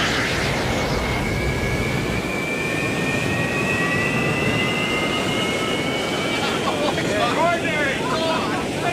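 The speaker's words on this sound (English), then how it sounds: "Get the afterburner." An Avro Arrow jet roars with its afterburner lit, a loud broad continuous rumble with rising whine tones, while people talk over it.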